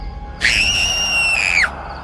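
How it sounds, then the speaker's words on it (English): A single sustained high-pitched scream, loud and close, lasting about a second over a dark, quiet background. "we heard a scream"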